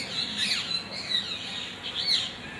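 Several sharp, squawking bird calls ring out in bursts, fairly close and loud over a steady background hiss, with no talking.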